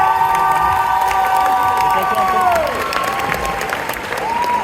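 An audience at the JAPANANTES 2024 cosplay event claps and cheers loudly for a jury member taking the stage, a dense crowd roar with a sustained tone running over it that fades partway through.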